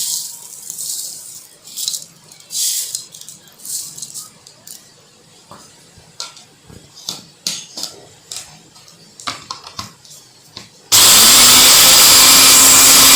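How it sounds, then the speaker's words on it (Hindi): An electric grinder whirs loudly and continuously as it grinds dried garlic into powder, starting abruptly near the end after a stretch of light clicks, taps and handling noises. "गार्लिक को भी इसी तरीके से ग्राइंडर में डालेंगे।"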